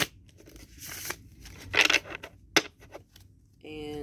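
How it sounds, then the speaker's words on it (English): Quick papery riffling bursts of cards being shuffled, a few short flurries with pauses, close and fairly quiet, ending in a brief voice. "but I'm going to shuffle them one more time"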